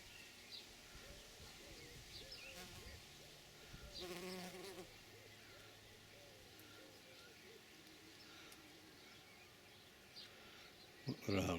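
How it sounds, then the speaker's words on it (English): Bumblebees buzz around bramble flowers in a June garden, a steady low hum that hangs on through the clip, with birdsong and a brief louder burst near the end. "Working by these bumblebees."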